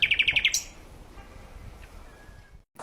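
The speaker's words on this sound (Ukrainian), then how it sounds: "А цю пташку можна почути у лісі. Це соловей." A rapid burst of bright, repeated nightingale notes opens, then a quieter forest background with a faint call or two.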